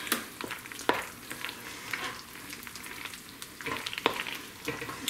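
Macaroni and cheese mixed with hamburger meat is stirred in a hot pan over medium-low heat, with a steady soft sizzle and scattered scraping clicks of the utensil against the pan.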